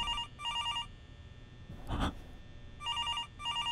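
A telephone in the horror-style video game Sanic's SpaghettiOs rings in two quick electronic bursts, then again after a pause filled by a faint breathy thump; no speech.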